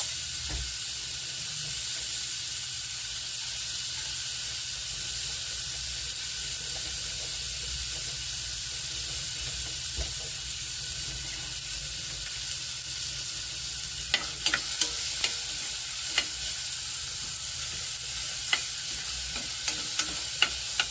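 Tomatoes being crushed and cooked in a hot pan make a constant loud sizzle, with sharper scraping and stirring clicks joining in toward the end.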